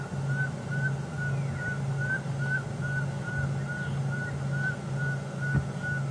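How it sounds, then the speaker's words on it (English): A repeated series of short, evenly spaced whistled notes from a barred owlet carries steadily over a constant low hum and a wash of background noise, at Djuma Game Reserve during an evening safari drive. "That sounds like a barred owlet."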